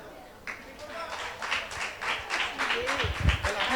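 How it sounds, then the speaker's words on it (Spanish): An audience at a talk on school issues claps in fairly soft, rhythmic bursts that build gradually, with voices murmuring underneath. "Aplausos."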